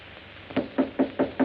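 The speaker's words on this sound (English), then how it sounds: "Why did you knock?" Four firm knocks on a door in a 1930s film scene, evenly spaced and close, following a brief quiet pause with no talk.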